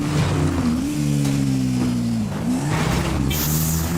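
A quad bike engine in GTA 5 drones steadily and loud, its pitch sliding down and back up as the throttle shifts, with a brief squeal or whoosh near the end.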